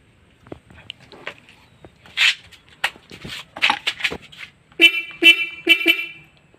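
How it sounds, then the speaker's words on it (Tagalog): A car horn honks in several short blasts, the last three loud and evenly spaced, with light clicking and handling noises between them. "testingin muna natin si busina pag walang interruptor relay"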